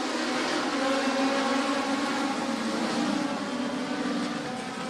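Legends race cars roar away at the start of a feature race at Maquoketa Speedway, a dense, steady wall of engine noise from the pack that holds nearly unchanged throughout, with no voices.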